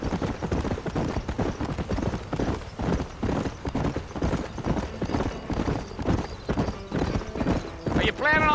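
Hooves clip-clop in a fast, steady rhythm as a horse gallops in Red Dead Redemption, with saddle creaks and a brief whinny near the end, while characters talk over it.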